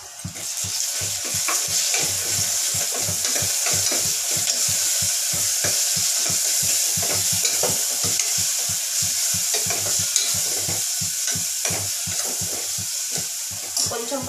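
Onions fry in a pan with ginger garlic paste and turmeric for mutton bagara rice, giving a continuous sizzle broken by a fast, regular run of scraping stirs from a spoon.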